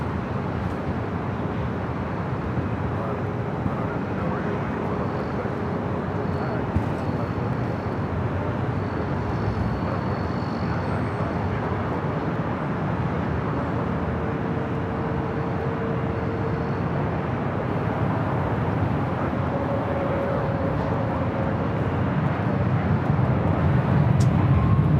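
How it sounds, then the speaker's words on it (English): A WestJet Boeing 737 MAX 8 arriving from Calgary at LAX sends out a steady, broad jet roar with a faint whine, held constant and distant for the whole stretch and swelling slightly toward the end. "Next arrival is WestJet, 737 MAX 8 coming from Calgary,"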